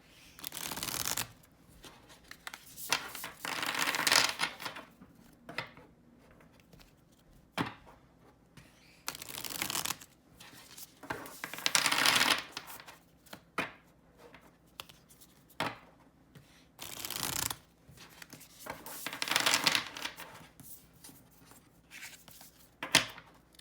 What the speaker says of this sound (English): they shuffle so beautifully. I love that sound of that riffle shuffle.